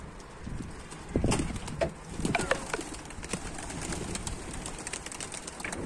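Pigeons coo softly amid scattered wing flaps and scuffling, with faint outdoor background noise and no talking.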